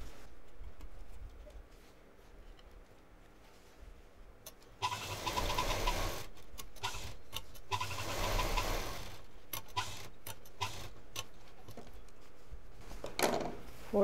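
Sewing machine stitching along a marked line on fabric for a large shopping bag, running in two sustained bursts with a short pause between, close and fairly loud, followed by softer handling clatter.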